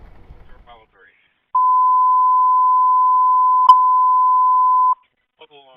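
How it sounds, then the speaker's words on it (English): Fire station local alarm tone in Washington D.C., a single loud, pure steady beep held for about three and a half seconds, with faint speech-like sounds before and after it. "Local alarm."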